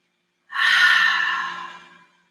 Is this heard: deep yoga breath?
yes